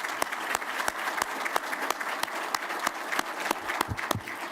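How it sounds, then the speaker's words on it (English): Applause fills an auditorium at a Clemson gathering, a sustained wash of clapping from the crowd, moderately loud, with a few sharp, close claps standing out from the steady mass. "So will you give yourselves a round of applause?"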